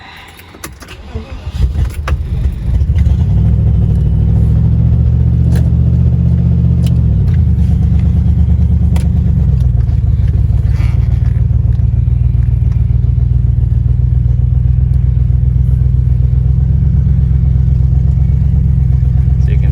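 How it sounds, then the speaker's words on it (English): A Land Rover Discovery 1 engine idles and then drives slowly around a parking lot, with a steady loud low rumble that rises briefly as it pulls away and settles into an even drone. "let's just take the Disco 1, a little drive around the parking lot"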